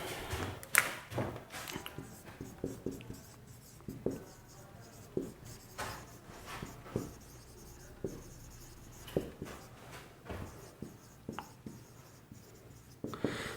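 Pen or chalk writing notes during a lecture, a series of soft scratchy strokes and light taps spaced about a second apart, faint and close, with no voices.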